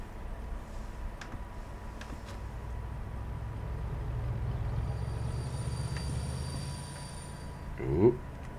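In the train game Derail Valley, a steady train rumble rolls on while a thin, high-pitched squeal of a dragging brake rises and holds, ending with a brief louder clunk.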